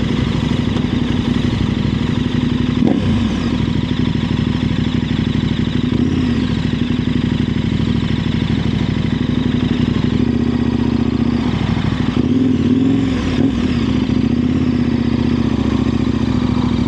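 A KTM 1190 Adventure R engine runs close and loud as a steady, throaty drone with a continuous low rumble. A few brief revs and shifts ripple through it, and there is no talking over it.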